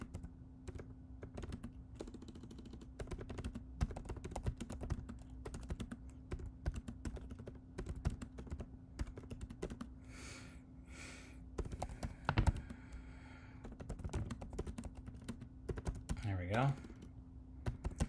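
Typing on a computer keyboard during a drawing-tool task setup: a steady run of close, quick key clicks with a faint hum underneath, and a brief louder burst near the end.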